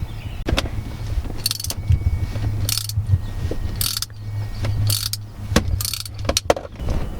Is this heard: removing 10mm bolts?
yes